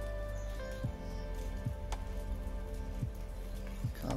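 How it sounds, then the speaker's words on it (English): Steady patter of rain falling on a surface at an abandoned house, a soft continuous hiss with a few low thuds and knocks scattered through it. "it's starting to rain by the sounds of it"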